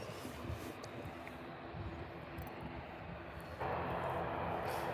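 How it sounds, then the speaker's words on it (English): A Saudia Boeing 787 Dreamliner landing at Birmingham Airport, a steady distant jet rumble that swells into a louder, broader roar toward the end. "That's Saudi coming in at Dreamliner"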